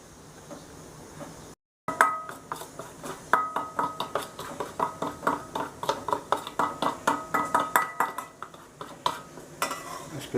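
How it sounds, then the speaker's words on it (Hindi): Oil and Kashmiri chili powder being mixed in a bowl for dhaba-style butter chicken: a steady run of close, rhythmic spoon scrapes and clinks against the bowl, with no talking. "पहले हम ऑयल और कश्मीरी चिली पाउडर को मिक्स करेंगे"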